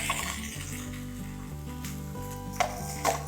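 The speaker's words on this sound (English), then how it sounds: "So I'm only going to sear it for a few minutes on the one side." A piece of meat sears in a hot pan with a steady, close sizzle and a couple of sharp utensil clinks near the end, alone without talk.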